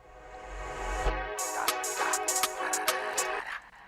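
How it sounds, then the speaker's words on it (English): A swelling reverse-reverb effect on a vocal rises into a sustained hip hop beat intro with sharp percussive hits and layered tones; steady, full, no talking. "I'm doing a reverse reverb effect on a vocal."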